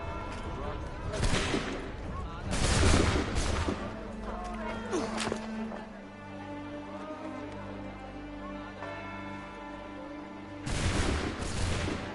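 A musket volley in Assassin's Creed 3 Remastered, several loud cracking shots bursting together near the start, followed by lingering ambience and another loud burst of fire near the end.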